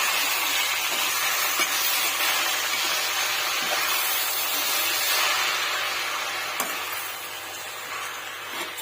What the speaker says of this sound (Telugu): ఆయిల్లో బాగా ఫ్రై అయ్యేటట్టు చూసుకోవాలి.